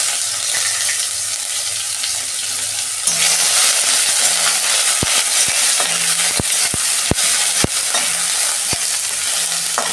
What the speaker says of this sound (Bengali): আমি একটা শুকনো লঙ্কা দিচ্ছি ফোড়নে, আর এই যে তেজপাতা দিচ্ছি, গোটা জিরে, এই যে আদা ঘষে রেখেছিলাম দিয়ে দিচ্ছি